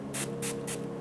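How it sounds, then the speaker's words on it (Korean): Three quick hissing bursts of an ion calcium skin mist spray from a Skin Doctor bottle, evenly spaced and close, over a low steady hum. "스킨 겸 미스트 제품을 제가 사용을 해보도록 하겠습니다"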